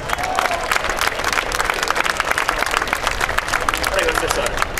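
A crowd at a boxing event claps steadily in sustained applause, dense and fairly close, with a few faint voices mixed in.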